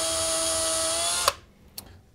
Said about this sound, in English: So let's drill those rivets out.